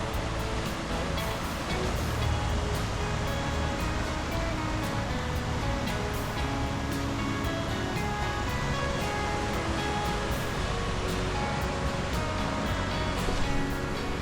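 Floodwater running off between mountains and rushing down a swollen stream branch during a West Virginia flood warning, a steady loud broadband roar that continues unbroken throughout with no voices.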